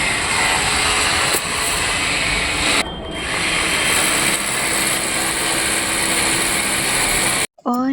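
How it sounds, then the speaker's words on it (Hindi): Electric drill from construction work in a neighbouring home, a continuous loud high whine running almost throughout with brief dips in pitch, sounding near and steady. "यहाँ पड़ोस में ना कुछ काम चल रहा है, तो वही ड्रिल मशीन की आवाज़ आ रही है"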